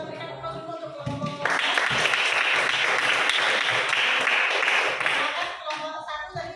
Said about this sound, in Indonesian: Kita berikan aplaus dulu untuk kelompok